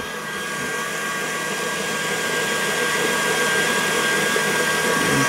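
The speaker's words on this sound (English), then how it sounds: "Whisk that till it starts to form some stiff peaks." Cream being whisked to stiff peaks for a banana cream pie, most likely with an electric mixer, gives a steady, even whirring drone that runs unbroken and slowly grows a little louder, with nobody speaking.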